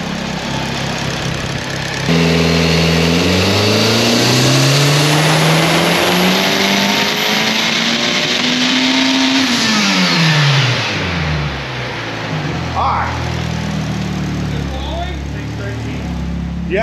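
A tuned car making about 613 horsepower at the wheels runs a dyno pull, its engine climbing in a loud, steady rising scream, then dropping back to a rough idle while voices follow.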